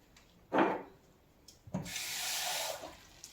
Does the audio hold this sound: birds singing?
no